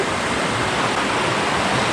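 A waterfall at Tat Kham in Nakhon Phanom rushes in a steady, dense roar of falling water, loud and continuous with no voices.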